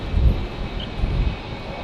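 A plane near Brisbane Airport on a windy day, heard as a steady, fairly loud engine rumble and roar holding through the short stretch, with wind noise and no talking.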